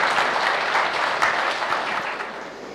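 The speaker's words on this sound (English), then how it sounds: "Come on, audience, with a very big round of applause." Steady, full audience applause at a leadership awards ceremony, many hands clapping continuously and evenly throughout with no voices standing out.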